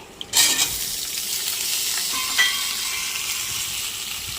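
Thinly sliced potato and ridge gourd drop into a hot oiled pan with a sudden loud sizzle, then a steady broad frying hiss continues close by with a few stirring bumps.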